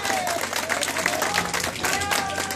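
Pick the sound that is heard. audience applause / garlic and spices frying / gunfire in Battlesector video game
audience applause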